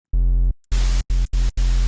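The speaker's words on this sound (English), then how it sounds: "we've even more control over the window of that white noise and how it's being added to the sub that we have in here" A Phase Plant synthesizer patch plays a low sub tone alone, then in four short bursts layered with bright white noise, each hit cutting off sharply with brief gaps between.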